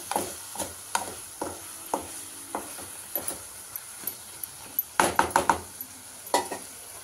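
Methi paratha, a fenugreek flatbread, turned and stirred in a pan, with repeated soft scraping and tapping strokes over a faint sizzle, louder clattering bursts near the end, no talking.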